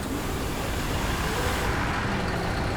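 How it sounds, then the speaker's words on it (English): Engine noise like a truck starting, from the video game Portal 2: a loud, dense, sustained rumbling roar that holds steady without clear pauses, heard alone. "Why does it sound like he starts a truck?"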